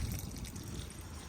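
Wastewater drains from the tank of a Chausson 628 motorhome, a steady low gurgling trickle of liquid running out continuously for the whole moment, fairly quiet with no talking.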